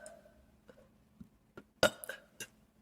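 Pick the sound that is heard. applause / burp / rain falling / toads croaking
burp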